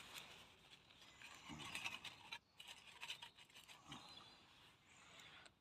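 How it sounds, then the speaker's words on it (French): A lighter is struck beside a wood camp stove outdoors at night, giving short faint scraping clicks of the flint wheel, several quick attempts over a soft background, with no talking. "Briquet."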